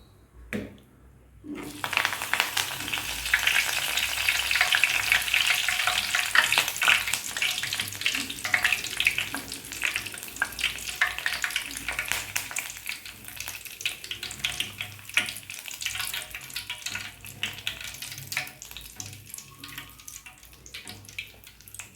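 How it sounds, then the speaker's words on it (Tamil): Curry leaves temper in hot oil for crispy cauliflower 65, a bright crackling sizzle bursting in after a short silence and holding steady, loud and close, slowly easing toward the end. "இப்போ கொஞ்சம் வந்து இதில் கருவேப்பிலை கொஞ்சம் அப்படியே தாளிச்சிடலாம்"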